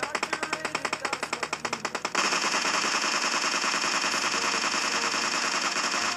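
Scar-L assault rifle fire in PUBG Mobile during a recoil test: a rapid run of distinct automatic shots, then a denser sustained burst of fully automatic fire, loud and close with no talk.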